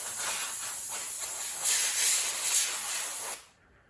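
An airbrush sprays thinned paint, mixed 60% thinner to 40% paint, onto a 1/35 scale Scammell Pioneer R100 model chassis, giving a steady close hiss that swells briefly midway before cutting off near the end.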